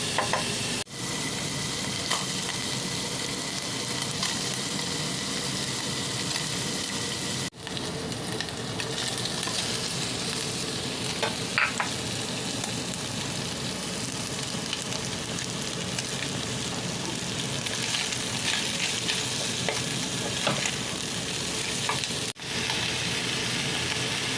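Meat frying with onions, garlic, potatoes and carrots for igado, a continuous even sizzle held for a long stretch with occasional faint clinks and stirs, moderately loud and close, no talking.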